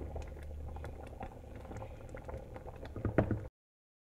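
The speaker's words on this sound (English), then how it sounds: "it's time to bring these grits down here from a rapid boil to a slow boil" Grits at a rapid boil in a pot, a close, steady bubbling and popping of thick liquid that cuts off abruptly after about three and a half seconds.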